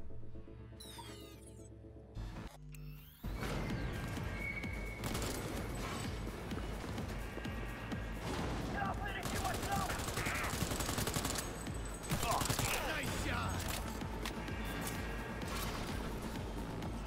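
Gunfire in Cyberpunk 2077: after a few sharp early shots and a brief lull, a dense, continuous barrage of rapid automatic fire and impacts rages loudly for the rest of the stretch, with occasional voices mixed in.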